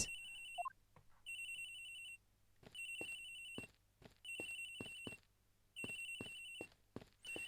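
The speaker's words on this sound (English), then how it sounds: "The ringing's coming from somewhere in here, sir." A cell phone ringtone in the Ace Attorney Investigations game trills in repeated electronic bursts with short gaps, faint and tinny, mixed with soft clicking game sounds.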